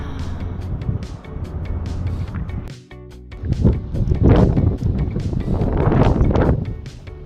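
Strong wind buffeting the open deck of the P&O Aurora cruise ship at sunset, a loud, rough rumble that drops out briefly midway and then gusts back harder, with no one speaking.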